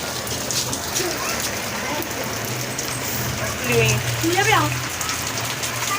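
Heavy rain pours down while the sun is shining, in a constant, dense hiss, joined by a low hum and some faint chirping or vocal sounds midway.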